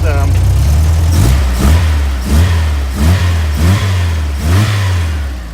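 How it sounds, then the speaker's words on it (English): An air-cooled 1969 Volkswagen Karmann Ghia engine with carburetors idles, then revs up sharply several times in a steady rhythm, each rev rising and falling back, close and loud. "Let me give you a couple revs."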